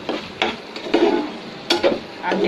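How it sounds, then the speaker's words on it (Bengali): Onions frying in a pan, crackling and sizzling close by with intermittent scraping stir strokes in an uneven rhythm, no talk. "এই পেঁয়াজগুলো ভাজা ভাজা হয়ে গেলে তারপর তুলে নেব, ততক্ষণ প্যানেই থাকবে"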